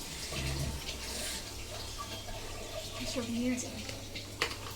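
Water is poured off mangoes and hot water is added, a steady running, splashing pour heard close up, with a person talking over it.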